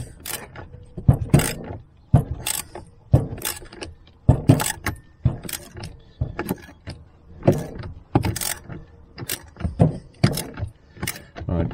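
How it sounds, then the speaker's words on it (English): A ratchet lever works repeatedly on a Ford Transit Mk7 brake master cylinder during a brake bleed, giving a steady series of sharp metallic clicks and clacks, close up, with no talking. "Keep moving the lever on the ratchet."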